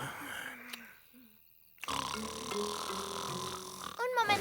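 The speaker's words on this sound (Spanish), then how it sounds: "No puedo dormir. Papi, mami, están roncando." Parents snore in the children's animated series Simón: after a quiet stretch, a rough, rumbling snore starts up and keeps going over a busy cartoon soundtrack, ending in a louder burst.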